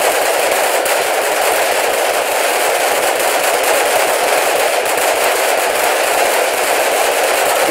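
Continuous rapid automatic fire from a normal gun in a video game, a dense, loud, unbroken rattle of shots lasting throughout with no pauses and no voices.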